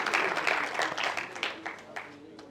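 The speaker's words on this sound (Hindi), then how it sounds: "भाई बात पहुंचे तो जरा तालियां बजनी चाहिए" Audience applause breaks out at a Hindi kavi sammelan poetry gathering, a dense patter of many hands clapping for about two seconds before thinning out, with voices mixed in over the clapping.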